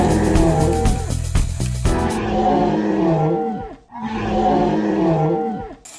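A toy dinosaur lets out loud, drawn-out electronic roars, two long roars after some rapid stuttering bursts, close and alone with no talk.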